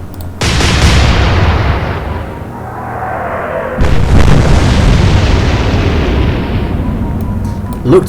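Warship guns firing in the naval video game Atlantic Fleet: two loud, booming salvos about three seconds apart, each rumbling into a long decaying roar.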